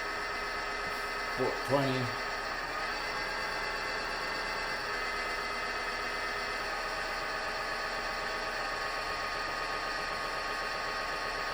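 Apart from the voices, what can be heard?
Powermatic PM2820EVS drill press motor running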